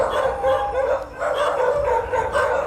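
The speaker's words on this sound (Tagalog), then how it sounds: "doon palang kakahol yung aso." A dog barks in short, harsh, repeated bursts, fairly loud and close, with slight whimpering tones between barks.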